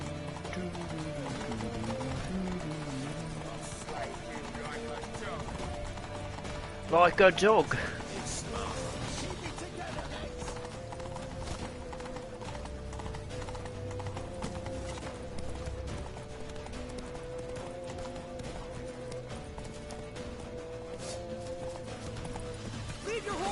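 Horse hooves galloping in a video game, a rhythmic clip-clop running under game music and steady talk, with a louder burst of hoofbeats and a whinny partway through.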